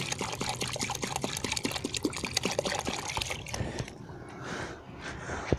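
Water poured onto dry soil around prickly pear plants growing on a rooftop, a steady splashing trickle that later softens into quieter gurgling as the parched ground soaks it up.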